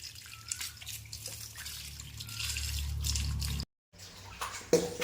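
Water from a pipe splashes and trickles over the stairs of a house as they are rinsed, a steady spattering wash with a brief break near the end before the splashing resumes.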